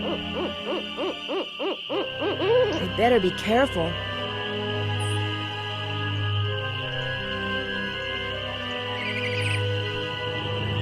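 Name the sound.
owl hooting and bird in Nancy Drew video game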